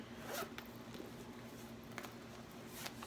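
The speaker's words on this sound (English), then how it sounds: "I'm going to zip that up" A zipper closes along a Louis Vuitton Neverfull pouch, a soft, quiet rasp running steadily with a few faint ticks and catches, heard close up with no talking.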